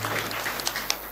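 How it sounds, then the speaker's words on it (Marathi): An audience applauds at a Marathi kirtan devotional gathering, a brief burst of steady crowd clapping with no talk over it. "एकदा त्यांच्यासाठी टाळ्या वाजवा."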